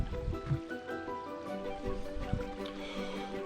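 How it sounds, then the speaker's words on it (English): A small creek running along a wooded nature-preserve trail near a bridge, giving a soft, steady wash of flowing water at moderate distance with faint scattered sounds over it. "And here's the little creek."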